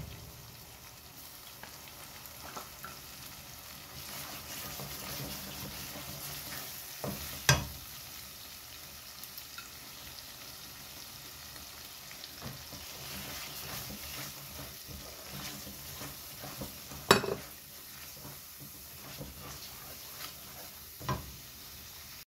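Onion, garlic and dried fish fry quietly in a pan for a vegetarian-free shutki bhorta, a low continuous sizzle broken by occasional sharp clicks and scrapes of a stirring spoon; close, soft, with no speech.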